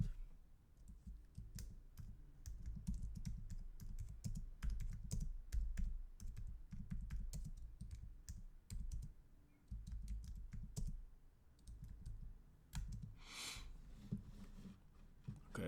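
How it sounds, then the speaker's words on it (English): Steady typing on a computer keyboard, a continuous run of close key clicks over a low background hum, with a short louder rustle near the end. "Let me type in what she typed in."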